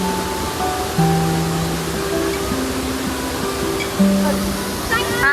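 Kamandag Falls rushes in a steady broadband roar heard from a hiking trail, loud and continuous, with faint tonal background sounds drifting over it.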